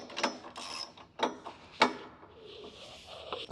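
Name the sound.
wrench tightening bolts on leg press foot pad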